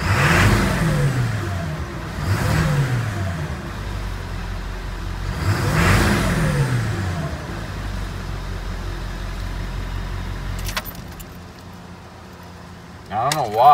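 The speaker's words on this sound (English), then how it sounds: "Maybe I just needed to rev the shit out of it." The diesel engine of a 2000 Ford F350 with high-pressure oil pump trouble revs in three strong swells close by, then settles to a steady idle.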